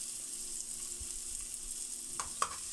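Onions sizzle quietly in a hot pan, a soft, steady frying hiss with a couple of faint clinks near the end and no voices.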